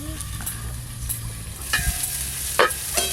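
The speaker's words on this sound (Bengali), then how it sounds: "ব্রকলিগুলো বেশ ভালো করে ভাজা হয়ে গেছে," Garden-grown broccoli fries in a pan, giving a close, steady sizzle broken by a few sharp scrapes and clinks of stirring.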